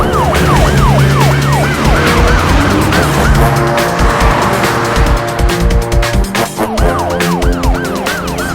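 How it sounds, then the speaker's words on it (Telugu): Police vehicles drive past with wailing sirens in a Telugu film scene, several loud overlapping rising-and-falling siren cycles over steady engine and traffic noise. "మా ప్రతినిధి వినోద్ ఇప్పుడు హంతకుడిని తరలించే చోటికి పోలీసు వాహనాల్ని అనుసరిస్తూ వెళ్తున్నారు"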